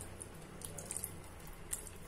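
Water runs and splashes faintly and steadily into a pan while pav bhaji is being cooked, with no talking.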